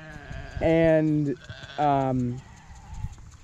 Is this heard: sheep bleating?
yes